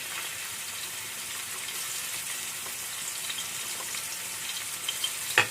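Garlic sizzles in hot oil, a steady hissing fry with light clinks of stirring near the end, close and with no talking.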